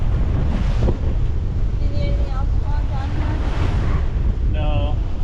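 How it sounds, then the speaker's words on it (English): Wind roars and ocean waves surge around a heeling sailboat in 10-foot seas off Key West, a loud, constant rush buffeting the microphone, with faint whistling tones rising and falling. "we easily have 10-foot waves now from bottom to the top"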